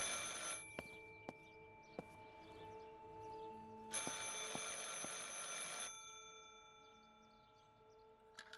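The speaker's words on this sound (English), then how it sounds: "I should pick up the phone but remain silent." An old telephone rings in the horror game Martha Is Dead, faint bursts of ringing separated by quiet pauses, heard alone in a still room.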